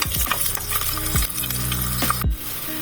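Ingredients fry in a pan while balbacua is cooked, a constant close sizzle with occasional light stirring clinks, heard under background music.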